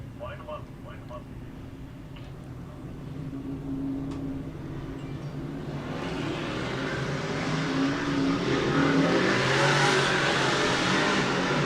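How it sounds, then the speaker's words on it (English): Dirt track race cars roll onto a speedway for hot laps, a low engine rumble building steadily into a louder broad roar, heard from a distance and rising over the final seconds. "getting ready for hot laps as the final group rolls onto the speedway."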